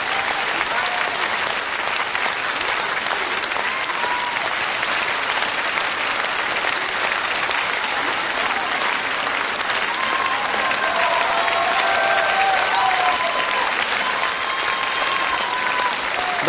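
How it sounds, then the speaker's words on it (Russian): Standing ovation from a television dance-show audience after a samba performance, a loud, dense and continuous wash of applause that holds steady, swelling slightly toward the end. "Стоя аплодируют звездные барышни нашего проекта."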